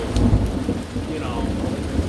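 A rainstorm with steady rain hissing on surfaces and low thunder rumbling through it, loud and close the whole time, with no voices.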